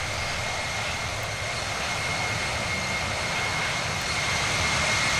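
Airbus A320 jet engines drone in flight above Quito in the Infinite Flight simulator, a steady, broadband cabin roar with a faint high whine, constant and unbroken throughout.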